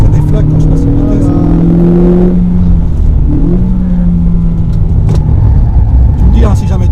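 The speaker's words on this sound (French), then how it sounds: "Je sens comment ça déflaque quand je passe la vitesse" A Renault Clio 4 RS Trophy Phase 2 on the Clastres circuit revs hard from inside the car, its engine note rising, dropping at gear changes, with sharp crackling pops on the shifts.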